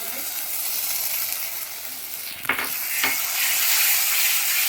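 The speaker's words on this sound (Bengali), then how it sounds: "মশলাটা থেকে আমি ভালো করে কষিয়ে নেব" A stone-ground paste of cashew, poppy seed and fennel fries in a pan for doi katla, giving a steady close sizzle broken by a couple of brief scraping stirs midway.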